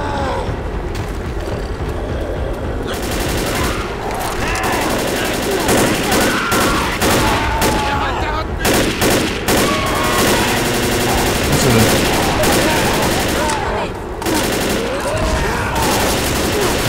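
Continuous heavy gunfire in the zombie shooter video game Left 4 Dead, rapid automatic bursts and shots layered with game noise, loud throughout, with players' voices occasionally heard beneath.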